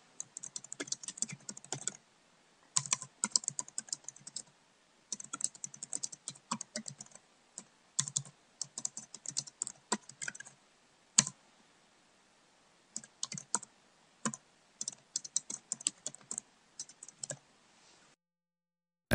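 Typing on a computer keyboard while writing email text in an editor, with bursts of quick, close key clicks broken by short pauses, steady and clear with no talking.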